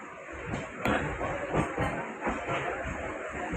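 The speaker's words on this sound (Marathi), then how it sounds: "Vasai local train." A Vasai local MEMU train runs on the early-morning Dombivli to Vasai Road route, with a steady loud rumble and rhythmic knocks and clatter from the wheels, heard up close.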